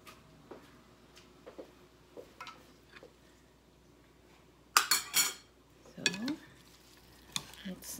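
Ingredients for a poke bowl, including lettuce, are tossed together in a bowl, with quiet scattered taps and then a few louder clinking, scraping bursts of utensils against the dish, close and without talk.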